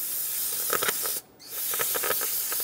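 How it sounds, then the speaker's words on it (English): Two close bursts of hissing aerosol parts cleaner sprayed onto a rag, separated by a brief pause, each a steady loud whoosh, with faint rustling beneath. "Take a clean rag with some parts cleaner."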